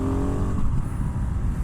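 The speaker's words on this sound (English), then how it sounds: "I love the sound of this intake" Dirt bike engine intake revving, a steady close-up engine roar with harmonic drone, continuous and loud throughout with slight surging.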